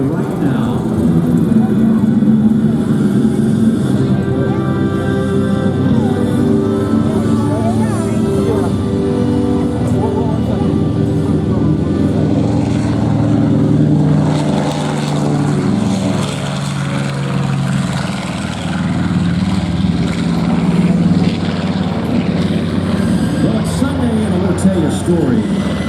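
Panchito, a propeller aircraft, rolls down the runway at a New York airshow, its engine droning loudly and steadily with a rising and falling hum while someone talks over a public address.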